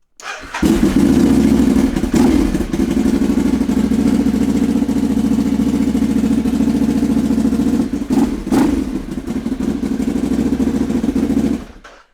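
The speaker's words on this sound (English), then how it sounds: "we're gonna start the bike so the oil circulates around the engine" A Ducati Hypermotard motorcycle engine cranks and catches, then settles into a steady, loud, rumbling idle that runs on before cutting off.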